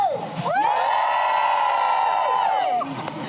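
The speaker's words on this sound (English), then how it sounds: "Big, loud, energetic cheer on 3." Big crowd of sport and science graduates letting out one loud, sustained cheer together, a held roar of many voices lasting a couple of seconds before it drops away.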